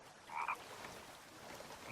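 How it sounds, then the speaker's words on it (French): A single short frog croak in a VR forest video game sounds faintly against quiet background noise. "J'entends des grenouilles mais je les vois pas."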